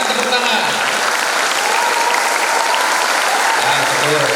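An audience at a public lecture on teaching methods claps together in a thick, steady wash of applause that runs throughout, with voices talking over it.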